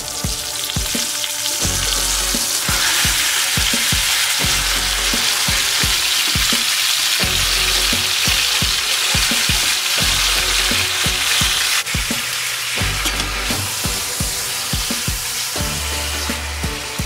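Chicken pieces fry in a pan with sautéed garlic and onion for adobo, a loud steady sizzle broken by repeated scraping and stirring knocks throughout, with no voices.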